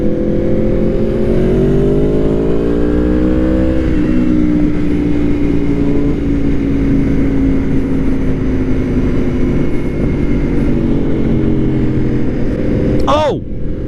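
A loud engine drones steadily while riding, rising in pitch over the first few seconds and settling into a constant hum. A sharp sweep of sound comes near the end. Words in the clip are unclear.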